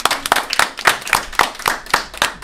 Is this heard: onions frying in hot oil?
no